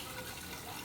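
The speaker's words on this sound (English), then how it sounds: "Can't freaking pour without spilling gasoline everywhere." Gasoline pouring from a can and spilling while refueling a Miller generator/welder, a steady close liquid gush and splash with no talk.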